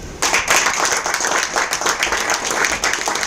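An audience at a product presentation gathering breaks into loud, sustained clapping that starts abruptly and keeps up steadily, dense and close.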